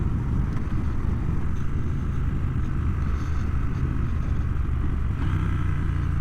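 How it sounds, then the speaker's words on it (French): A 2025 Triumph Speed Twin 1200 RS motorcycle downshifts with its auto-blipper, no clutch needed. A steady, close engine rumble runs throughout, with a brief shift in pitch and rev near the end. "Là j'ai utilisé le blipper, donc qui permet de rétrograder sans avoir à actionner l'embrayage"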